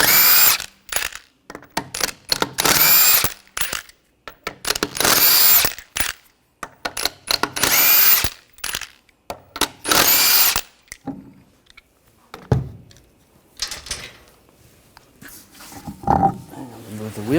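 A power tool, likely an impact gun with a 21mm socket, removes wheel nuts on a 2014-2020 Nissan Rogue during rear brake hose work, giving repeated loud bursts of whirring and hammering separated by short pauses, with quieter handling noises toward the end.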